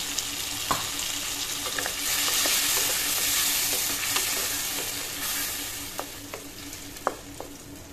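A paste of ginger, garlic, onion, white mustard and chilli fries in a pan, a constant sizzling hiss broken by occasional clinks and scrapes of stirring, close and without speech.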